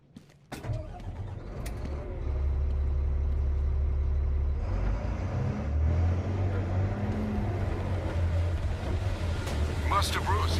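A truck engine in a Batman: Arkham Knight cutscene turns over with a sharp start, then settles into a steady, deep, loud rumble that carries on without a break.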